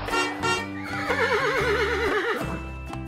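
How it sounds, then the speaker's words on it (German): A horse gives one loud, close whinny that wavers up and down for a couple of seconds before fading, with no speech. "Das ist ein Pferd."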